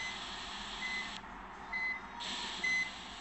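Bus in the Bus Simulator Indonesia video game sounds its reversing alarm: three evenly spaced high electronic beeps about a second apart over a steady low engine hum.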